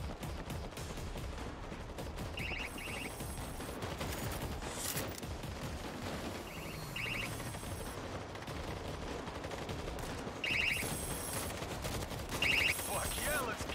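An automatic turret in the video game World War Z fires continuous bursts of gunfire amid dense battle noise, with short rattling volleys standing out over a constant roar.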